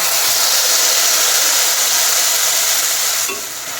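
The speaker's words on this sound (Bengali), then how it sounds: "আর এখন যেই মশলাটা বানিয়ে রেখেছি সেটা দিয়ে দিচ্ছি।" Spice paste hits hot oil in a pan and sizzles loudly and steadily while being stirred, easing off slightly near the end.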